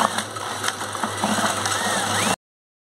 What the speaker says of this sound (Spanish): agarramos la aspiradora con esta pala y empezamos a batir